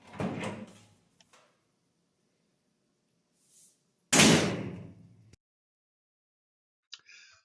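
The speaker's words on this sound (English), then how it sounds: "Sounds like a Lexus door, only solider." A solid all-metal door on a scratch-built three-quarter-scale 1932 Ford roadster shuts twice with a heavy, solid thunk, each close ringing briefly before silence, with a faint click near the end.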